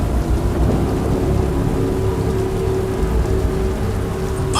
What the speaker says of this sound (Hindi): बादल हैं, बूंदाबांदी हो रही है और भी डरावना माहौल बन गया है।